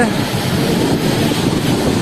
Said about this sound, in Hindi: बहुत तेज़ हवा चलती हुई यहाँ पे।